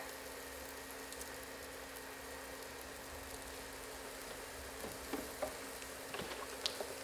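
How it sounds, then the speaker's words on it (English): Food sautéing in a pan for a healthy Alfredo sauce, a faint steady sizzle with a low hum and a few light stirring clicks near the end. "So I'm just letting it get a little sauteed before I add the almond milk"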